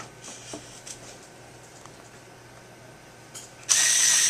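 An automated screwdriving machine unscrews a screw: a few faint clicks and rattles, then a loud high motor whir kicks in near the end and continues.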